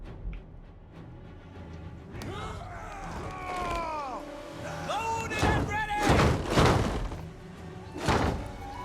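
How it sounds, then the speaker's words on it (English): Siege engines in Total War: Rome 2 fire on a city wall, producing a series of heavy thuds and crashing impacts that build in loudness, with whooshing sweeps and a voice talking over the battle. "Firing at the wall."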